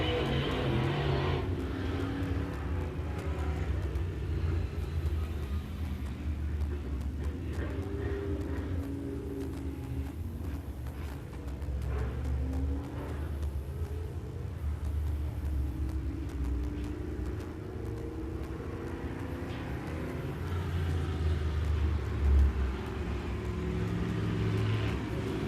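Crate Late Model race cars running hot laps at Big O Speedway, a steady engine roar with rising and falling revs as the pack circles, heard from a distance with no talk.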